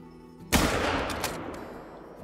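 A single hunting rifle shot fired at a plains bison in a hunting video game, one sharp loud crack followed by a long fading rumble and a faint echo.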